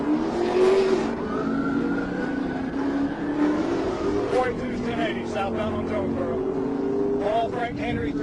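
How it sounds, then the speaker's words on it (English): Chrysler 300 fleeing police at high speed on a road near Brownsville, its engine roaring steadily with rising revs and road noise throughout, with voices talking over it. "the driver floored it, launching straight into a high-speed chase"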